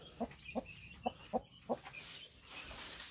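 A hen at a backyard poultry pen clucks in a run of five evenly spaced, moderately close calls, then quiet farmyard ambience with faint bird sounds.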